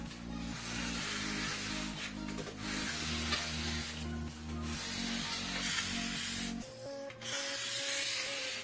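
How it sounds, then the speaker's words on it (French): A file held in a preset angle guide sharpens ski edges with continuous close rasping strokes, a dense rhythmic scrape that pauses briefly near the end. "Nous utilisons une équerre avec un angle prédéfini et une lime."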